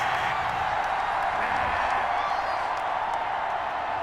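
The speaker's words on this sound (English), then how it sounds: "this crowd does not like that call" A stadium crowd in the video game Madden 21 reacts to a roughing-the-passer penalty call with a steady roar of disapproval. The noise is loud and unbroken, with cheering and whoops blended into the constant wash.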